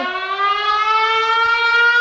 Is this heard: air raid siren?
yes